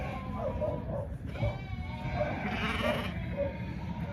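A flock of ultra white cross ewes and bred ewe lambs bleats repeatedly, with several overlapping calls close by over a constant rumble of farm background noise.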